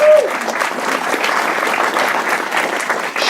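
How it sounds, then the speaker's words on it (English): An audience applauding steadily after a film screening, a dense wash of clapping from many hands throughout, fairly loud, with a brief voice at the very start. "give her a little applause"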